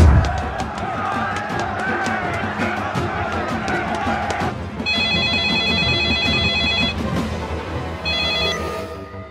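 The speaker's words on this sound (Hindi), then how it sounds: "नंदू के फोन आई रहे" A telephone rings in a Bhojpuri film scene, a repeating electronic ringtone that starts partway through and continues over busy background noise, stopping briefly before sounding again.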